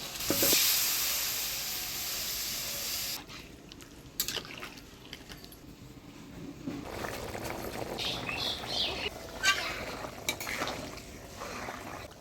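Potato curry with spices cooking in a pan, a hiss of frying that fades into softer bubbling and scattered scrapes, with birds chirping faintly in the background.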